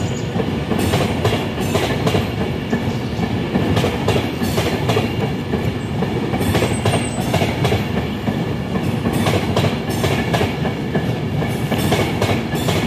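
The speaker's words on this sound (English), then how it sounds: "service passing now's the delayed 1849 into Carlisle from Glasgow Central to London Euston" A delayed evening Glasgow Central to London Euston passenger train passes through Carlisle, a loud, steady rush of wheels and rail noise with rhythmic clickety-clack throughout and no voices.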